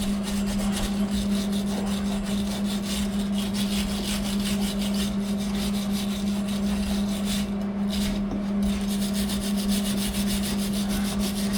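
A wire brush scrubs metal on a cargo trailer being converted into a dirt bike camper, a continuous rough rubbing hiss over a steady low hum, close and unbroken.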